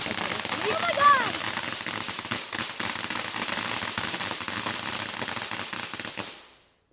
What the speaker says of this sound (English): that's why we're doing illegal fireworks